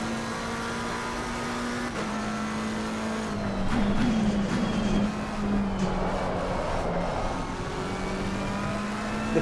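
Race car engine in a racing sim game, a steady loud droning hum holding a constant pitch with slight wavering and a brief surge partway through, no voices.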